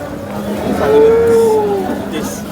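A cow moos once, loud and close, a long drawn-out low call rising and falling at a busy cattle market, with faint crowd noise around it.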